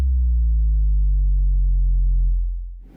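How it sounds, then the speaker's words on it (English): Synth bass drop made in Serum for jungle production: a single pure sine sub note on F that sustains loud and steady, its pitch sliding gradually downward before fading out near the end, alone with no other sounds. "It's like a sub with a pitch drop effect."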